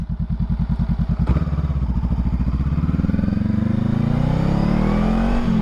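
A Honda Rebel 500 motorcycle engine running close by, starting with a steady pulsing idle thump, then rising in pitch as it revs up into a smooth, loud, sustained drone.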